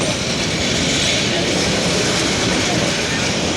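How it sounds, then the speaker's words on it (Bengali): A local train pulls away, rumbling loudly and continuously nearby on the Netrokona–Mohanganj line, a dense roar of wheels on rails with a faint clatter, steady throughout. "ট্রেনটি টান দিয়ে সামনের দিকে নিয়ে চলে যায়।"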